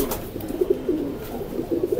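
Highflyer pigeons coo softly in an open loft, a few low, repeated rolling coos close by over a dull background murmur.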